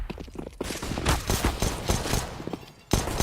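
Counter-Strike match gunfire in a professional ENCE versus NiP game at DreamHack Masters Spring, with dense overlapping shots and bursts firing close and loud throughout, ending in a sharp final volley.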